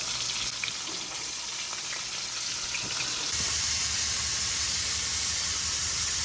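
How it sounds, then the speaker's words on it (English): Continuous crackling sizzle of frog legs frying in hot oil, close by, growing slightly louder and denser partway through, with no talking. "We got the last of the frogs frying right now."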